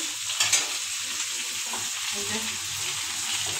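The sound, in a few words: potatoes stirred and frying in spice paste for hilsa curry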